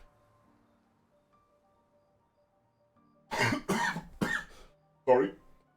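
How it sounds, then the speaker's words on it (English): Three harsh coughs in quick succession, then a fourth after a short pause, close to the microphone and loud against an otherwise quiet room with a faint background tone. "I need to stop coughing things up"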